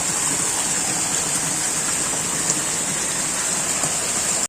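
Steady, dense rain pours down on a village house, a loud unbroken hiss of falling water with faint drips and patters, with no voices.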